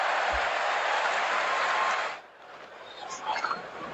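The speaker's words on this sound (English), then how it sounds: "That will get the biggest cheer of the morning." Crowd at a cricket Test match cheering and applauding loudly and steadily for about two seconds after a wicket, then dropping away to quieter crowd murmur with faint voices.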